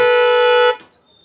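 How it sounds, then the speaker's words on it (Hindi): Creta-type car horn fitted to a 2024 Tata Altroz: a single loud, sustained honk with a bright, buzzy tone lasting under a second, cutting off abruptly into near silence. "ये हमारा क्रेटा टाइप हॉर्न लग गया, सेल्टोस क्रेटा टाइप"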